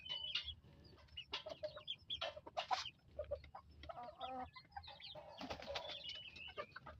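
Darag native chickens cluck and chatter in a busy, irregular stream of calls close by, with overlapping bursts from several birds and no talking.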